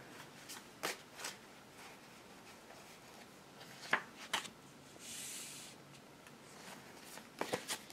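Tarot cards are shuffled in several quick riffling bursts, close and crisp, with quiet pauses between them.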